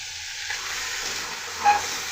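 Chicken cooking in a pan with soy sauce and tomato sauce gives a steady soft sizzle and hiss, even and unbroken, with a faint brief tap near the end and no voices.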